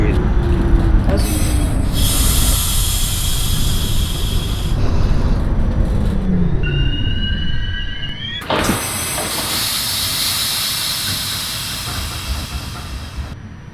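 A simulated NYC Subway R68A train on the Q line in the OpenBVE game grinds along the rails with loud, sustained wheel squeals, broken by brief mechanical clunks and a sharp shift partway through.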